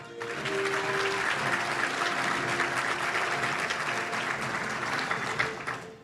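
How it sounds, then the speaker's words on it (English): Steady, moderately loud applause from the audience at a Little Rock Touchdown Club awards event, even clapping rising quickly and holding for several seconds. "please give a round of applause to Tatiana Hurd"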